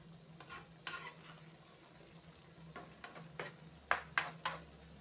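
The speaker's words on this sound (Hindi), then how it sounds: "अभी मैं अच्छा से मिक्स कर देंगे।" Spring onion sabzi with cumin powder stirred in a pan, a soft low sizzle with scattered scrapes and sharp metallic clinks of a spoon against the pan, fairly quiet and close.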